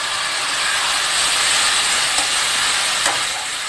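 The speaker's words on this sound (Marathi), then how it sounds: "आता मी त्यामध्ये दोन मोठे टोमॅटो बारीक कापलेले आहेत ते टाकत आहे" Chopped tomatoes, two large ones, tipped into browned onions in a pan for a Maharashtrian chavli (black-eyed pea) curry, giving a steady, close, loud sizzle and hiss that holds throughout with a couple of faint clicks, no voices.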